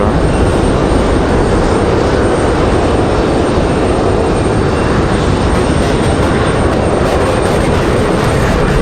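A Delta CRJ regional jet lands at Raleigh-Durham International Airport, a loud, close, continuous broadband engine roar that holds steady throughout.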